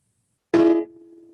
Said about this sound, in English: you might not want to play a major seventh